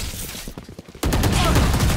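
Gunfire from the video game Valorant rings out close and sharp: scattered shots, then a dense burst of rapid fire in the second half, with a voice talking underneath.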